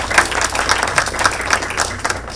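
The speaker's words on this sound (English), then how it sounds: "So let's give a big applause to them." Audience applause at a labour reform gathering in Bangladesh, a steady dense clapping from a crowd filling the whole moment with no voices on top.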